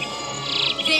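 Bird chirps come through in short bursts, fairly loud and close over a steady hiss of outdoor background, with no talking during the chirping.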